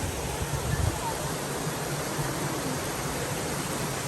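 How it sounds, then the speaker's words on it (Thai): Steady broadband rush of the Mae Kampong waterfall heard close by, an unbroken roar of falling water throughout with no distinct events. "เราอยู่ตรงน้ำตก ของแม่กำปอง"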